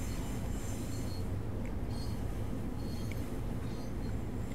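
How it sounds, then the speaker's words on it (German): A commuter train on the Harlem Line in the Train Sim World 2 game rumbles along steadily, with rolling wheel noise, faint squeals and clicks over a constant low drone, close and continuous with no speech. "Und die Sounds von dem Zug sind auch richtig geil."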